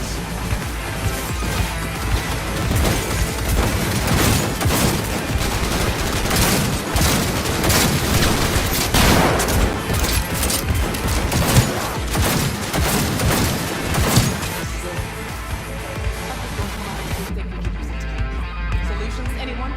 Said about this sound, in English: Minigun, spotted. Turret! Watch out!